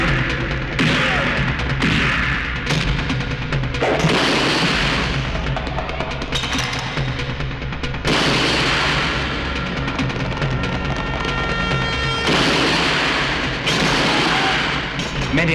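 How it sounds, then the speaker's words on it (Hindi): Gunfire in a Hindi action movie scene, loud, dense bursts of shots and booming impacts repeating through the whole stretch over a music and effects bed, with no talk. "मैंने अभी अभी फायरिंग की आवाज सुनी है।"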